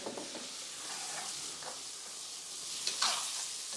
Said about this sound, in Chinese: 油已经烧了，直接先把肥肠倒下去爆起来